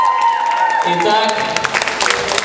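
An audience applauds and cheers for the winner of a student popping dance battle at a dance studio, with dense clapping swelling over lingering music tones and voices in the hall.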